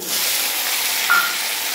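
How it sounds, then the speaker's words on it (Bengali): Steady hissing sizzle of paneer frying in hot oil, continuous and close, with a faint brief clink partway through. "একটু পনির আছে, পনির কটা ভেজে ফেলি।"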